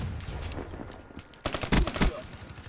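Gunfire in the Black Ops 3 video game: quieter shots patter at first, then a sharp burst of loud rapid fire crackles close in, with a faint voice underneath.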